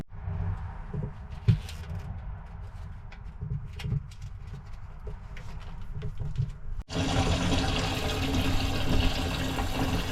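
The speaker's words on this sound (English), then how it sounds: "So I filled up the Livewell with water" Water pouring into the livewell of a 25-year-old Lund fishing boat: a steady gushing fill with some knocks, and a louder, broader rush of flow that takes over for the last few seconds.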